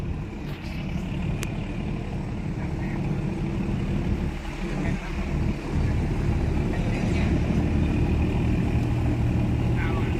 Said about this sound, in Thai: เรือเล็กนะครับลำนี้ออกไป ลำเข้ามาแทนนะครับ